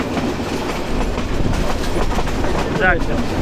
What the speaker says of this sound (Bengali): আমাদের ট্রেন ঢুকতেছে নাঙ্গলকোট রেলওয়ে স্টেশন